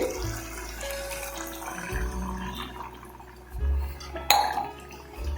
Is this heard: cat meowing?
no